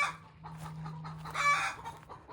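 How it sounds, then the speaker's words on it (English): Chickens call softly at a distance, a few drawn-out crowing and clucking sounds over a steady low hum in the background. "the chickens are happy, I think. I think those are happy calls."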